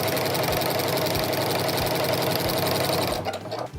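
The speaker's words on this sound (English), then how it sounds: "So I'm just keeping that edge even and sewing straight." Sewing machine fitted with a walking foot stitching straight quilting lines, a loud steady rapid mechanical whir running continuously before slowing and stopping near the end.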